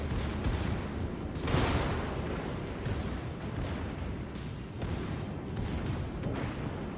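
Battleship guns fire in the naval combat game World of Warships, deep booming blasts and rumbling explosions over a dense low roar, with a couple of stronger bursts standing out.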